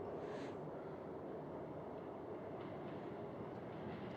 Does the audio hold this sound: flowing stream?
no